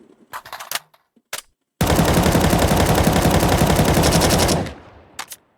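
Automatic weapons firing in a Valve first-person shooter, a few short scattered shots followed by one loud sustained burst of rapid fire lasting about three seconds, then two brief trailing clicks.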